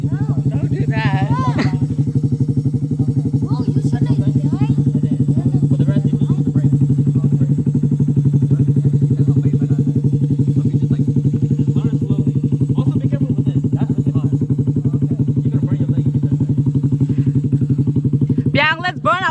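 A motorcycle engine runs steadily and loudly throughout a private riding lesson, a constant close drone with people talking intermittently over it.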